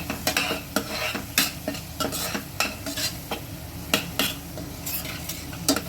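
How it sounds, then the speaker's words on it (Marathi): A spoon scrapes and stirs through onions with coriander powder and salt in a hot pan, giving repeated rhythmic scrapes and knocks over a soft sizzle, close up and with no talking. "आपण हे छान कांद्याबरोबर एकजीव करून घेऊया"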